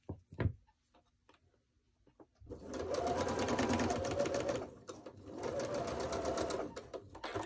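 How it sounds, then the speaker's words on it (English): A sewing machine runs in two long bursts stitching quilt block scraps together, its fast mechanical rattle loud and close after a few quiet handling taps at the start. "Put them together. And sew them."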